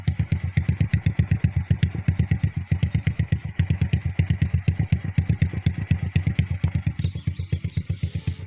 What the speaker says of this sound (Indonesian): Nah seperti ini ya cek sound. Ini ada DB killer di dalam ya